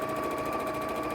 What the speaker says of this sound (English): I'm sewing close to the edge of the fabric